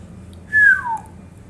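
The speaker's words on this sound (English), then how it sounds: "He whistled under his breath." A man gives a short, soft whistle under his breath, one rising note followed by a quick falling glide, quiet and alone.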